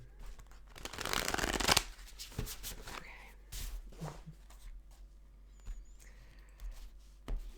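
A deck of playing cards is shuffled close to the microphone in a loud riffling burst, followed by quieter handling, tapping and card-squaring sounds.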